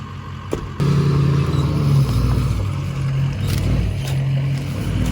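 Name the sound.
stuck truck revving while trying to back up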